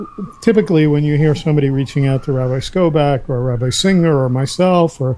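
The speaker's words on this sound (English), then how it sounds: "I'm sorry about the siren." A siren wails somewhere outside, faint beneath someone speaking steadily in the foreground.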